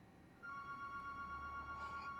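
A phone rings steadily with a sustained electronic tone in a workshop during a Mercedes B-Class W246 repair, moderately loud, with faint background noise and no talking.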